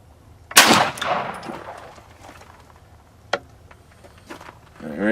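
Single sharp pistol shot from a Sig Sauer P210 A fired from a Ransom Rest at an outdoor range, loud and close, followed by fainter clicks and handling noises.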